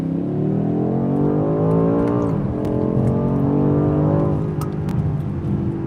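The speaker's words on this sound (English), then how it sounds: "downshifting manually, and punch it" A 2020 BMW X5 M Competition SUV engine revs hard under acceleration after a manual downshift, pitch climbing steadily, dropping briefly at a gear change, then rising again, close and continuous.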